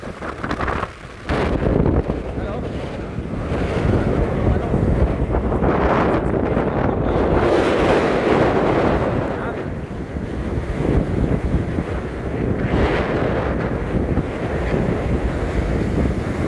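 Strong surf crashing continuously during a typhoon, with heavy wind buffeting the microphone, a loud roaring wash of sea and gusts with no voices.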